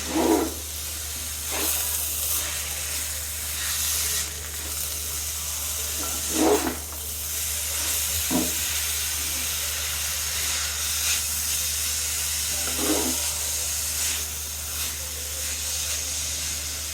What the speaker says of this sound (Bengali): ভালো করে কয়েক মিনিট গাজরগুলো ভেজে নেব